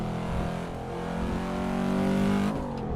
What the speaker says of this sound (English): the 5-cylinder sound is a pretty unique sound